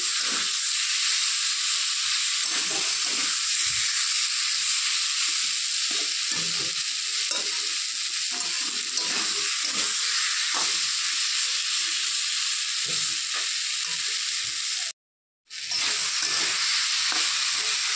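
Katla fish and teasel gourd sizzle steadily in a hot pan while a spoon stirs them, with a continuous close hiss, repeated soft scraping, and a brief silent break near the end.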